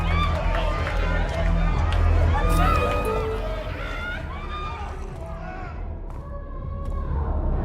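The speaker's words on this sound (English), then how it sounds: "a mosh pit opens in the smoky dark in front of the stage. Let's hang back and watch the crowd." Concert crowd churning in a mosh pit in front of a stage in the game Life is Strange, with thumping footfalls and rushing bodies under a babble of voices and shouts.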